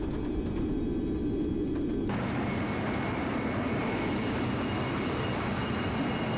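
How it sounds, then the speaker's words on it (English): Loud, steady roar of DC-9 jet engines on thrust reverse in a flight simulator game, a broad continuous rumble and hiss that swells and thickens about two seconds in and holds strong to the end. "Thrust reverses."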